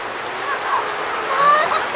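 Hens of mixed ages cluck and murmur steadily inside a winter chicken coop, a close, continuous chatter of soft calls with a few sharper notes rising over it.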